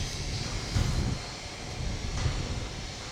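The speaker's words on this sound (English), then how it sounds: "these two gas turbines do kick out some noise every now and then" Low, steady industrial rumble outdoors from two gas turbines in Runcorn, with gusts of wind buffeting the microphone; a broad droning roar with no voices.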